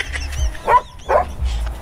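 A large dog at a seaside private resort in Pagkilatan, Batangas barks twice, deep and fairly close, with a short gap between the barks and low background rumble around them.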